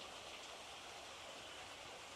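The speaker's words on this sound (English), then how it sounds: "it's flowing from that little sinkhole pond" Water flowing from a small sinkhole pond in Santee State Park, a continuous soft rushing trickle, steady and faint, with no voices.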